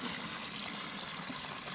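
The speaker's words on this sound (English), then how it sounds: "put a bit of water into the bottom like that" Water is poured into the bottom of a dog waste digester sunk into garden ground and surrounded by gravel, giving a steady, soft splashing trickle throughout with no talking.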